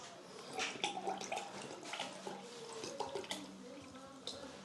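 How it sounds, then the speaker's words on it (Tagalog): Cold water poured into a glass of juice, a light watery trickle with splashy bursts running steadily for a few seconds, close and fairly quiet. "Tapos lalagyan ko yun ng tubig na malamig."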